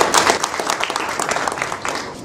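Crowd applause at a ribbon-cutting for a hotel inauguration, dense steady clapping from many people at moderate distance, fading slightly toward the end.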